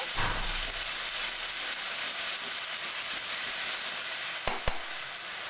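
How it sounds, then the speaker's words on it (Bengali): Okra and potato curry spices sizzle in a pan while being stirred, giving a steady loud frying hiss throughout with no talk. A couple of brief knocks of the spoon come near the end. "আবারও খুব ভালো করে নাড়াচাড়া করে নেব"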